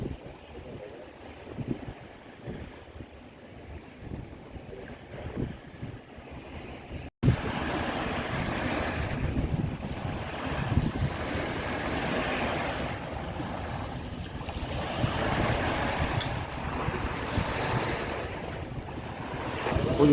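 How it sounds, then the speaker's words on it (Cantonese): A new ferry sits on the water by Kowloon City pier, with waves washing and gusting wind rumbling steadily after a sharp break, the ferry itself not distinctly audible. "好，影下呢個船先。 新渡輪，"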